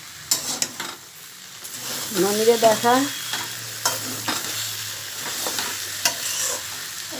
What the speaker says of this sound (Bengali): ডালের বড়ি ভাজা হবে বলে